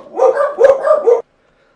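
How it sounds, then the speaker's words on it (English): A dog barks nearby in a quick burst of several loud, close barks, then silence. "sorry about the barking dog thing"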